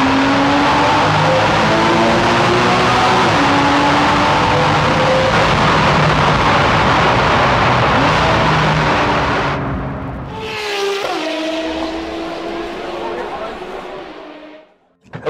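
A 2014 Porsche 981 Boxster sports car drives hard, its engine note climbing through rising revs and gear changes, loud and close, then the engine drops off and pulls again before cutting out abruptly at the end.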